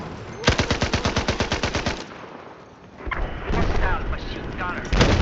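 Rapid bursts of machine gun fire in the video game Battlefield 4, a loud rhythmic string of about fifteen evenly spaced shots, then a pause before rumbling battle noise and further gunfire return.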